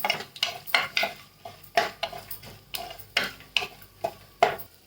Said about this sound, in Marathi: ड्रायफ्रूट चांगले भाजून घ्यायचे चांगले तेलामध्ये तळून घ्यायचे